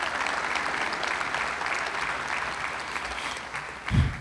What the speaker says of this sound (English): So please give the donors and the volunteers a round of applause.